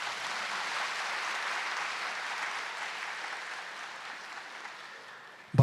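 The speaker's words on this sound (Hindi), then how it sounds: "ताली तो बजाओ" A seated audience breaks into steady applause, dense continuous clapping that holds for about five seconds and eases slightly before a voice cuts in at the very end.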